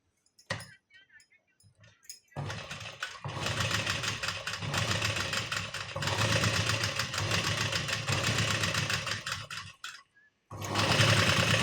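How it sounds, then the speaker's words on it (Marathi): A sewing machine stitches a blouse in long, steady whirring runs, stopping briefly and restarting, loud and close with a few quiet gaps between bursts. "बघा आता मी तुम्हाला शिवून दाखवते"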